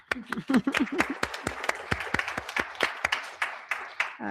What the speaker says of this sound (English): We'll give him an applause from afar.